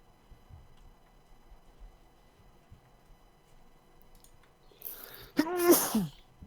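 One loud, sharp sneeze bursts out near the end after a long stretch of quiet room tone, with faint ticking before it.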